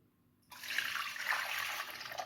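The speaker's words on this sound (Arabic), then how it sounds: "وغادي ندير الماء" Water pours into a bowl of powdered milk, a steady broadband trickle and splash that starts abruptly after a short silence and runs evenly to the end, close and moderately loud.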